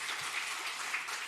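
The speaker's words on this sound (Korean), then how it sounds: "자녀라고 더 큰 박수 격려하십시다." Applause from a church congregation for the children during a Sunday worship service, a steady, dense wash of clapping that holds evenly from start to finish with no voices over it.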